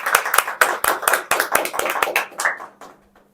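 An audience at a DMIT franchise training event in Uttar Pradesh claps in welcome. Distinct individual claps sound fairly close and irregular, thinning out and fading away by the end.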